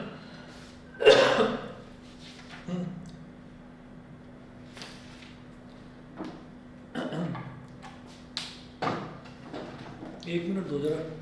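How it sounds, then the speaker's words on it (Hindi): A person coughs during an online maths class, several short rough bursts spread over the stretch, with faint talk and room noise between them. "मैं पानी पीकर खांसी आ रही है"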